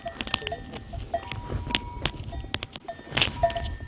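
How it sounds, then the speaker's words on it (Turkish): Sheep on a farm, with short bleats and scattered hoof shuffles, knocks and clatter close by in a busy pen, and no talk. "İşte koyun bu."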